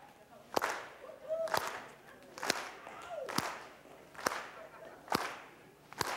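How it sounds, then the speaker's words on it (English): An audience at a leadership talk on a college campus claps together in unison, single loud synchronized claps spaced about a second apart, with faint murmuring between them. "Just give me a clap."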